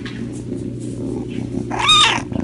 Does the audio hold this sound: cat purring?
yes